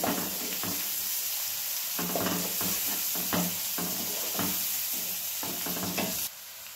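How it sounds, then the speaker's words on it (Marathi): Chopped green chilli and half a tomato being stirred and roasted in a hot pan, a steady soft sizzle broken by repeated scraping strokes of the spoon, close and fairly quiet. "आता हे सगळं मिक्स करून भाजूया।"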